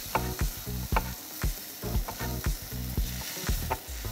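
Beef steak sizzles in a hot frying pan, with a steady crackling hiss broken by regular, rhythmic bursts roughly every half second, close and fairly loud, with no talking.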